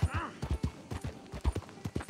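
Horse hooves in the Western video game Red Dead Redemption 2, a quick run of clip-clop beats in an uneven galloping rhythm, close and fairly loud.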